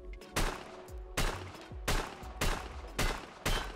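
Five gunshots, evenly spaced about 0.7 seconds apart, come from a Chiappa Rhino revolver firing 9x19 ammunition; each is a loud, close blast with a short ringing tail.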